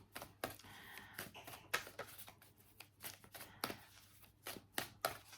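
A deck of tarot cards is shuffled by hand, giving quiet irregular riffling snaps and soft slaps in short bursts, close up and faint.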